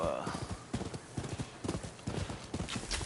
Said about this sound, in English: so when I make my horse sprint